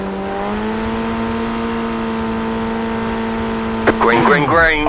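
A race car in iRacing holds a steady high idle drone, then launches off the start line in wet monsoon conditions, engine note jumping and climbing in rapid revving sweeps near the end.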